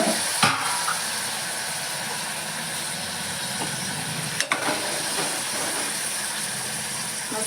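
Water poured into frying masala for misal gives a steady, loud sizzling hiss that lasts throughout, with a couple of brief clatters.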